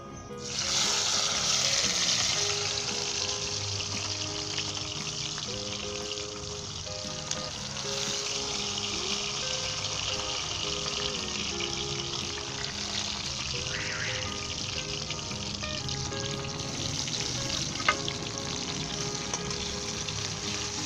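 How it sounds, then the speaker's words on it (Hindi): Onion, ginger and garlic frying in about five tablespoons of hot oil in a kadai over high heat, a loud, dense, continuous sizzle with a faint hum underneath. "सबसे पहले हम प्याज, अदरक और लहसुन को फ्राई करेंगे।"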